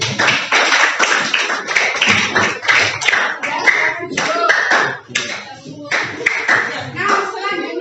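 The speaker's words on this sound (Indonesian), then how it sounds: "Tepuk tangan untuk kelompok 2" A group claps and cheers together for a student group in a classroom, a lively burst of applause with overlapping hand claps and excited voices lasting several seconds.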